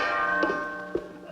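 A gong struck during a comic rice ritual rings out in a single resonant metallic stroke with a long sustaining hum, followed by a second, softer strike near the end.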